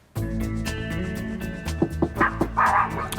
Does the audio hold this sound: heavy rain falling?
no